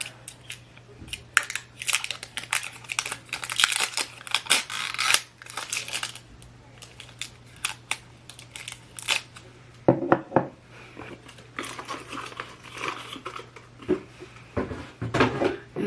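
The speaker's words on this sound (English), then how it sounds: "Make sure I take this plastic off." Plastic wrapping is peeled and crinkled off a DJI Mavic Mini drone wall adapter, close up, in bursts of crackling rustle with brief pauses.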